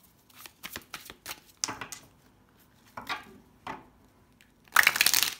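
Tarot cards are laid out one by one on a table, making a series of soft, crisp slaps and shuffling flicks with short pauses between them, ending in a louder burst of card handling.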